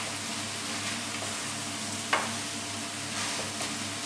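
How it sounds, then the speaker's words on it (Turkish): Minced meat sizzling steadily as it fries in a pan for a stew of meat and cabbage, with a brief scrape of stirring midway and a constant close crackle throughout. "Kıymamızı da bir iki çevirelim, ondan sonra yağımızı ilave ederiz"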